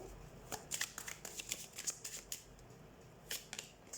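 Tarot cards are shuffled and handled at close range, giving a steady run of soft papery riffles, flicks and slaps with brief pauses, quiet and with no voice over them.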